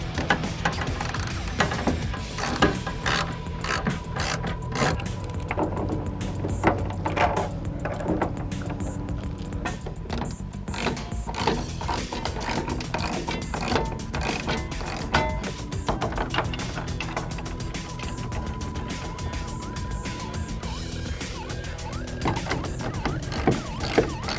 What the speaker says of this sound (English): we're using a 14mm socket in order to tighten them up